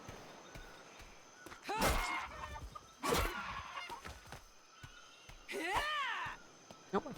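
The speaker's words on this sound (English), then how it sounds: "That chicken, I can hear it." Chickens in the video game ATLAS cluck and squawk in three short bursts, fairly close and loud against a quiet outdoor ambience, with no talking.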